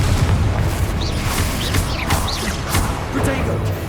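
Confringo fire-blast spells in Hogwarts Legacy burst as a run of heavy booms and crashes over noisy combat, with a voice speaking amid the explosions.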